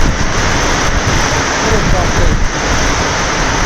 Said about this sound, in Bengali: দেখো ঝড় বৃষ্টি একসঙ্গে দারুণ বৃষ্টি